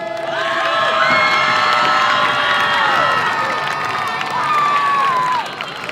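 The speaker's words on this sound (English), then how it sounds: "The crowd is getting hyped up once again." A crowd at a high school varsity football game cheers and shouts loudly and steadily for several seconds, with excited whoops and children's voices over the roar.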